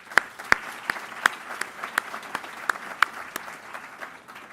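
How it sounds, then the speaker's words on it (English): An alumni audience at a university address applauds, a thinning round of clapping with a handful of loud, close individual claps standing out over a softer spread of hands. "I personally will give you a great round of applause"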